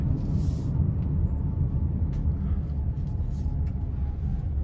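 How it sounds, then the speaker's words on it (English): A 2023 Nissan Rogue SL's 1.5-liter turbocharged three-cylinder engine on a test drive, heard as a steady low cabin rumble and road drone held at an even level throughout, with no talking. "you have this turbocharged 3-cylinder engine, which is extremely quick"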